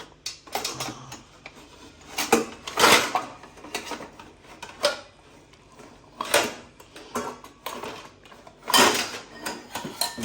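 Clattering ceramic and metal knocks as a cup is pulled from a stack of dishes, several bursts of rattling separated by short pauses.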